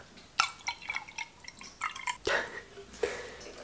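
Recovered shower water drips and splashes into a container, a quiet, irregular series of close, sharp plinks and small trickles with no voices.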